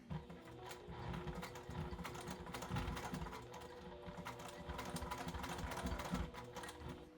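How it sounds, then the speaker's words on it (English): Sewing machine top stitching around the edges of a skirt waistband, a quiet, steady mechanical chatter running continuously with slight variations in pace, faint and close. "Now I'm gonna do my top stitching."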